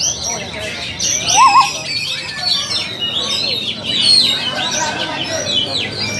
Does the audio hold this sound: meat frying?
no